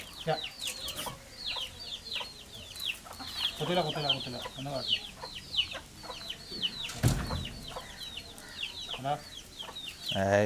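A flock of household hens clucks busily and close by, with overlapping rhythmic calls and occasional louder squawks. A brief sharp clatter sounds partway through.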